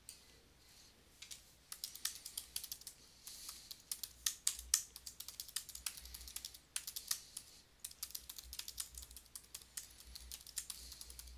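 Typing on a computer keyboard while entering a PowerPoint slide title: bursts of quick, light key clicks with short pauses between, close by and fairly quiet, with no talking.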